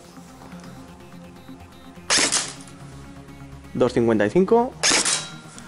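Several sharp airsoft shots from a stock Tokyo Marui MP5 fired through a chronograph: one near burst, then a few quick cracks after a short pause, with someone speaking Spanish between and during the shots.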